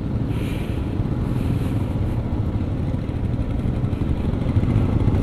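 A motorbike ridden around a bend on a mountain road between Hunder and Pangong Lake in Ladakh, its engine a steady, loud, continuous drone with wind rush throughout and no talk.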